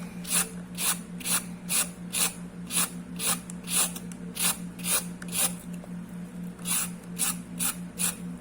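A peeler scrapes down a carrot in a professional kitchen, with steady repeated rasping strokes about twice a second, close and clear over a low steady hum.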